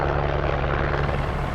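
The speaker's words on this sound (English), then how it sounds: "We're gonna bring the helicopter in." A helicopter flies close by with a steady, loud rotor and engine roar that fills the short stretch without pause, above a canyon with no voices.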